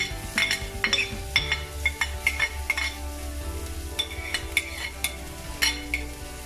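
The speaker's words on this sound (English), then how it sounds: "you add in the onion, and I like to add in the garlic as well" Onion and garlic fry in a pot for mutton curry, sizzling steadily under a spoon that scrapes and clinks against the pot in repeated, uneven strokes, close by.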